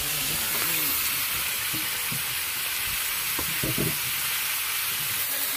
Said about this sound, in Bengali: আমাদের কুমড়োটা কষানো হচ্ছে